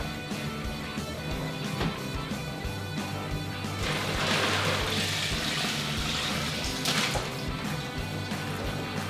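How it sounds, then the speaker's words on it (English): Brine poured from a pot into a brining bag over a turkey sitting in a cooler; continuous splashing, gurgling liquid that swells louder midway, with a few sharp sloshes, close and alone. "I'm just gonna take this entire pot and pour it into the bag on top of the turkey"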